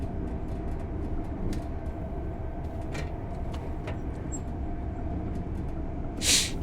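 Azuma train from Train Sim World running along the UK East Coast Main Line, a steady low rumble and drone of the train throughout with faint clicks, and a short hiss near the end.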